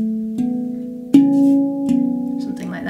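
A handpan plays a short, slow bass line of a few struck low notes. Each note rings and sustains into the next, with a brighter accent midway, heard alone and fairly soft.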